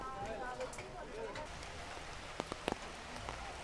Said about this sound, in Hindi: अभी बारिश काफ़ी तेज़ हो गई है